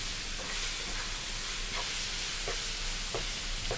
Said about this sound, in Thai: ยายจะผัดให้แห้ง